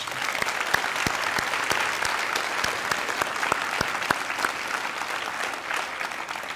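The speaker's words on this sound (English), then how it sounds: "Let's give him one more round of applause." An audience at a teacher of the year reception gives another round of applause, a dense, steady clatter of many hands with scattered louder claps standing out throughout.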